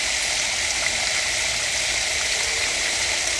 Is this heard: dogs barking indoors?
no